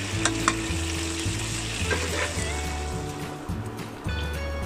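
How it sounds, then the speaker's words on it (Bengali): Chicken fries in hot oil for a Bangladeshi restaurant-style chicken jhal fry, with a steady loud sizzle, occasional stirring clinks and a low background hum throughout. "দেখতে পাচ্ছেন ফ্রাই করছি।"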